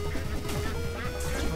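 Duck quacking in the video game Legend of the Brofist, mixed into busy, constant game music and effects that continue throughout the moment.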